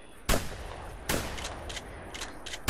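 Shotgun blasts fire at ducks in the hunting game The Hunter Classic, three sharp, loud reports spaced about a second apart with brief decays and faint rustling between shots.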